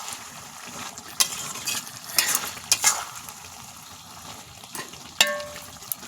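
Chicken pieces with meat masala and tomato get stirred in a sizzling pan, giving a low frying hiss with irregular spatula scrapes and clacks against the metal.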